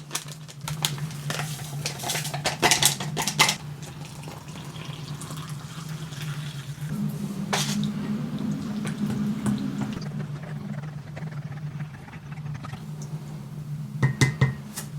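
Soup being prepared from a UN patrol combat ration pack, with a steady low hum of the heating main, water pouring and filling, and scattered clinks and taps of packets and utensils, close and moderately loud.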